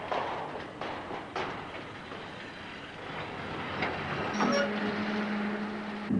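Train in remote Australia slowing to a stop at Edwards Creek to take on water, with a steady rumble and rattle of wagons. A brief wheel squeal and hissing tone rise near the end, fairly close.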